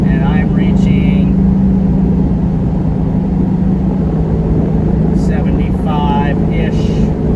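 A 1986 VW Syncro van cruising on the highway in fourth gear: loud, steady low engine drone and road rumble throughout, with someone speaking briefly at the start and near the end.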